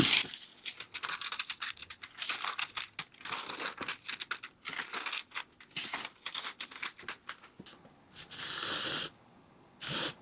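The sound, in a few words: parchment paper being handled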